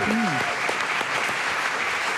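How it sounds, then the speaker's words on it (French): A studio audience at a French radio show applauds columnist Juliette Arnaud, brief steady clapping with a voice speaking over the start. "vous pouvez applaudir Juliette Arnaud"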